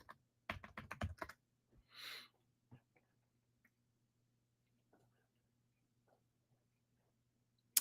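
A short burst of rapid keystrokes on a computer keyboard, close and quiet, followed by a soft breathy sound and a few sparse isolated clicks in a near-silent room.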